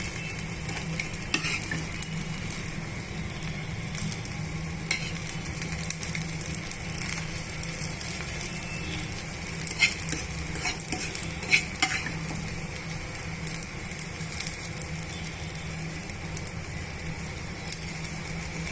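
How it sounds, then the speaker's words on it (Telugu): A dosa sizzles on a hot pan while aloo potato masala is spread over it with a spoon, steady frying hiss under soft scraping and clinks, no voices. "ఇప్పుడు దోశ బాగా వేగిపోయింది కదండి ఇప్పుడు మనం ఈ దోశ మీద ఆలు మసాలాని ఇలా వేసుకోవాలి"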